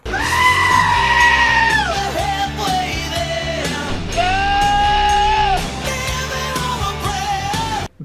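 Goats screaming in sustained, wavering cries pitched like a melody over a rock backing track, several long loud wails in close succession with music underneath throughout.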